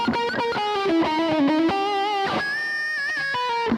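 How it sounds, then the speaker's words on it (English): An electric guitar plays a slow melodic line with long sustained notes, bathed in a big, spacious reverb that lets each note ring and blend. "I would say this is fairly natural sounding for like a big reverb."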